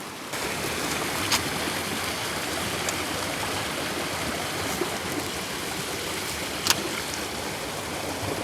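A canyon creek rushes steadily nearby during tenkara fly fishing, a continuous broadband wash of flowing water with a few faint clicks and no talk.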